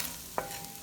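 Onions browning in bacon grease in a Le Creuset braiser, a steady soft sizzle with two brief clinking stirs, close and alone.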